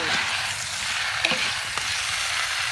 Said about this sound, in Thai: ทอดแคบหมูโบราณจ้า